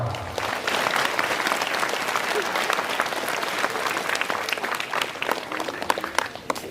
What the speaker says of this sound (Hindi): प्रभु की स्तुति हो, ईश्वर को धन्यवाद और ताली बजा देंगे।